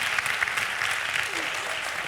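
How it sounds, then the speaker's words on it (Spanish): An audience bursts into sustained applause for Irene Montero at a live talk event, dense crowd clapping that holds at a constant, fairly loud level throughout. "Un aplauso, por favor, a Irene."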